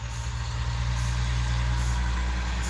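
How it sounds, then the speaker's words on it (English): A dump truck on a residential road about 35 feet away, a loud, steady low engine rumble that holds through the whole stretch, with no voices over it. "Comes another dump truck."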